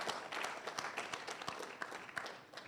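Audience applause at a Ghana Statistical Service report launch, a sustained patter of many hands clapping from a seated crowd, moderately loud and even throughout.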